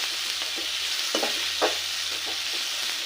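Onions stir-fry toward golden brown with a continuous, moderate sizzle, broken by several short scrapes of a spatula against the pan.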